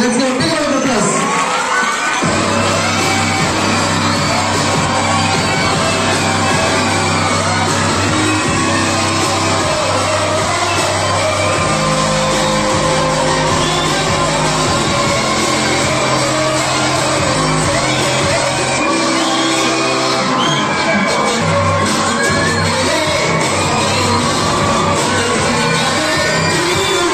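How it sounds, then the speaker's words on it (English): A school audience at an investiture ceremony cheers loudly, with children shouting and whooping in a dense, continuous crowd roar that lasts throughout. "So let's give a big round of applause."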